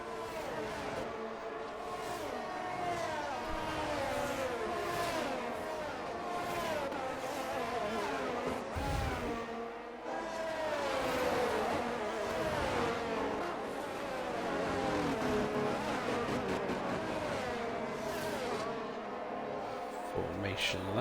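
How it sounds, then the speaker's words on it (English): Race cars on a formation lap around Silverstone in a racing video game, engines droning and revving steadily throughout with shifting pitch, while a commentator talks over them. "Formation laps. Time for our drivers to heat up the tyres and engines."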